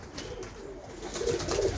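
Racing pigeons cooing, a soft low burbling coo near the end of a brief stretch of quiet background murmur.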